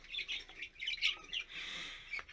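Budgerigars chirp and twitter in quick faint bursts close by, a busy run of high warbling calls with short pauses between them.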